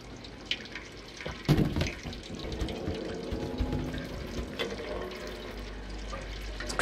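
Tap in the video game Stray running water, a soft splashing and gurgling stream with a louder burst of splashing early on, continuing quietly throughout.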